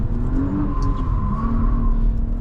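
A 2026 Audi S5 accelerates under full throttle, a steady, loud engine drone with a rising tonal whine, heard from inside the car with no talking.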